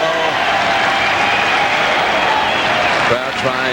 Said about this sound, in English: Crowd trying to get Michael Chang going here.